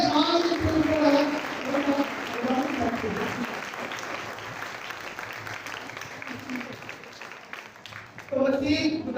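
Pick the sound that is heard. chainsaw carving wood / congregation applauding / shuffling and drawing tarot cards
congregation applauding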